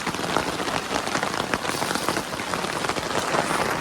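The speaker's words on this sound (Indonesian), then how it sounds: "Jadi ini hujan." Steady rain pours on a mountain trail during a hike up Mount Sumbing, a dense, continuous hiss of drops pattering close by with no voices.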